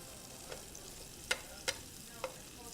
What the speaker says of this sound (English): You're going to get some nice color on the onion. You're going to end up cooking them about 5 minutes.